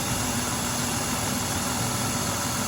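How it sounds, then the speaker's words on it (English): A BMW 328i engine idling with the cabin heater running during a radiator coolant change, a steady, close droning hum with constant noise and no variation throughout. "you have to turn on the hot air inside the car and let it run."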